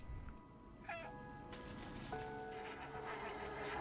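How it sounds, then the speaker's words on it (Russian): Cat meows in the video game Stray, two short tonal calls near the start amid steady game ambience and a soft background wash, fairly quiet overall. "Ну, допустим, мяу."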